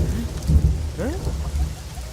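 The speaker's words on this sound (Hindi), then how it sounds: "ओह, ये तो बारिश हो रही है।" Rain falls steadily at night with a low, rumbling undertone and a brief sweeping tone partway through.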